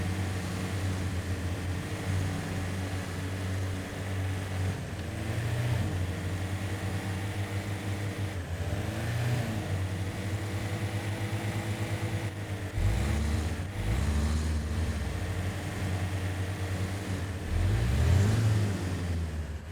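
A heavy truck engine in Expeditions: A MudRunner Game labours uphill, a steady loud diesel drone with low rumble throughout, surging in revs a few times toward the end, with no talking.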